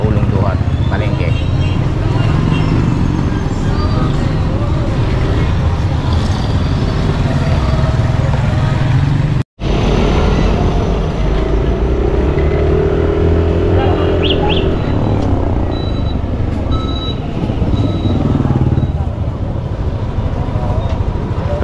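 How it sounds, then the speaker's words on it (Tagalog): Steady morning traffic outside Ulong Duhat public market, with a continuous dense rumble of engines and motorcycles passing nearby and a few faint high chirps over it. "Traffic. Yan, every morning dito po sa Ulong Duhat, Palengke."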